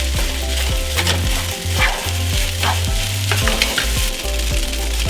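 Carrots stir-frying for pad thai in a pan, a steady loud sizzle with repeated scraping stirs of the spatula at a fairly even rhythm, up close and with no voices.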